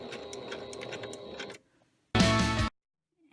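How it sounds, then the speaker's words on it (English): A sewing machine stitching fabric for a bag, a steady close mechanical whir of rapid stitches that stops, then a short second burst of back stitching after a brief pause. "So I'm going to take a couple of stitches and then I'm going to back stitch."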